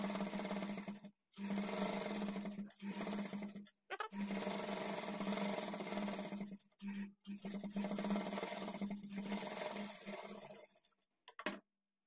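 A sewing machine runs steadily in long stitching bursts with brief pauses as it stitches a blouse lining folded to a half inch, its motor hum and rapid needle clatter close and loud.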